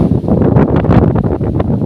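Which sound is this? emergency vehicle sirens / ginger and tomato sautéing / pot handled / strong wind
strong wind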